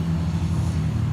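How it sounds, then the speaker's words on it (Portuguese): Car traffic from a highway right beside a large former restaurant, heard as a continuous low engine rumble and droning hum, fairly loud and steady through the short stretch. "Aqui fica bem do lado uma rodovia. Então vai ter bastante barulho de carro."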